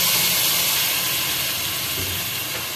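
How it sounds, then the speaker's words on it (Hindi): Masala spices for masoor dal roast in hot oil in a pan, giving a steady, loud, broadband hiss and sizzle that holds throughout without pause. "देखिए मसाला भुन रहा है।"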